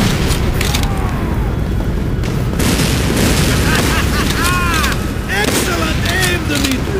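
A flamethrower's fuel tank blows up in a war video game, one deep boom among a constant dense roar of gunfire and explosions, with a whistling sweep over it and shouted talk mixed in.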